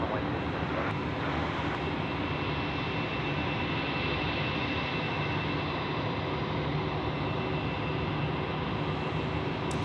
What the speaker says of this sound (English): Velocity 291, runway 27, clear for takeoff.